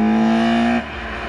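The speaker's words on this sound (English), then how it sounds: "The induction, when you put your foot down and full throttle and those trumpets open right up, is seriously something else." Tuned 174bhp Citroën Saxo VTS with throttle bodies and open trumpets gives a loud, sustained full-throttle induction roar that holds a steady pitch, then cuts off abruptly into a lower idle-like rumble.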